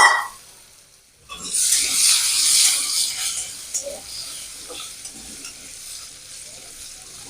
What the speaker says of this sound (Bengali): এবার ওই তেলের মধ্যে আলু দিয়ে দেব